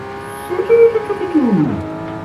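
Toyota Supra engine revved at half throttle, a single close rev that climbs, holds briefly and falls away as the engine settles back toward idle.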